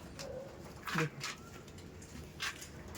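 A male and female pair of Kaldom Andhra pigeons coo softly, with a few short throaty coos spread over a low background murmur nearby.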